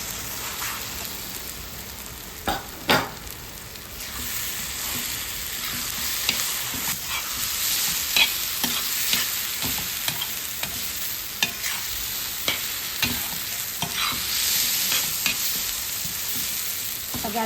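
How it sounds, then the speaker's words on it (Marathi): Smashed eggplant and onion are stirred in a hot pan for vangyache bharit, a continuous sizzle and fry with repeated scraping strokes of a spoon against the pan, close and steady, with no talk. "आता आपण हे स्मॅश केलेलं वांगं टाकूया. आणि आता व्यवस्थित मिक्स करून घेऊया."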